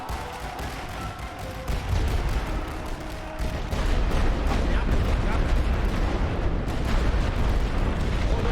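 Artillery in the World War I strategy game The Great War: Western Front fires as a dense, continuous rumble of booms and blasts, loud and sustained, with heavier impacts swelling partway through.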